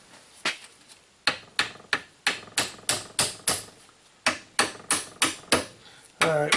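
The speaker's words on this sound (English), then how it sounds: "let's go a little hammer, see if we can do a little hammer time on it." Sharp, ringing hammer blows on the rear axle backing plate of a Chevy 2500HD, about fifteen strikes in a steady rhythm with short pauses between groups, ending in a louder clanging hit.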